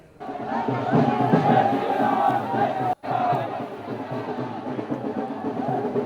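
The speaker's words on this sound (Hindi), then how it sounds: "संभव है कि भीड़ बहुत ज़्यादा है, वहां शोर होगा" A large, dense crowd of devotees carrying saffron flags at Bhojshala roars and chatters continuously at high level, with a brief dropout midway and a steady wash of voices throughout.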